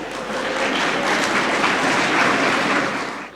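Audience applause welcoming the chief guest at the Swadesh Conclave 2023, a dense, sustained clapping from a crowd that swells and holds for a few seconds before easing off.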